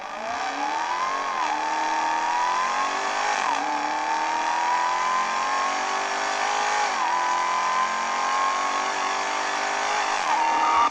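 A Dodge Hellcat Redeye engine drones loudly and continuously nearby, its pitch rising and dipping through repeated revs. No one speaks.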